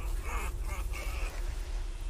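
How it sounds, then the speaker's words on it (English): A goose honking in the video game The Quarry: a few short, nasal, quacking calls, fairly faint over a steady low rumble, with no speech. "It's a goose."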